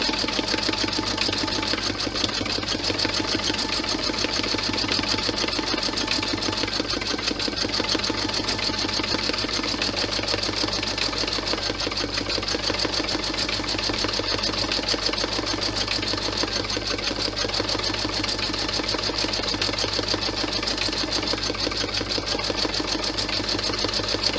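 An embroidery sewing machine stitches out the blue section of a USA key clutch design, a steady, continuous mechanical hum with a rapid needle rhythm held close and loud throughout, no voices.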